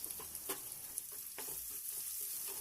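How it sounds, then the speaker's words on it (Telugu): Chopped onions, green chillies and curry leaves fry on a low flame with a quiet, steady sizzle, broken early on by a few sharp clicks of stirring as carrot fry is prepared. "స్టవ్ని లో ఫ్లేమ్లో ఉంచి ఉల్లిగడ్డ ముక్కలు లైట్ బ్రౌన్ కలర్ వచ్చేంత వరకు వేయించుకోవాలి."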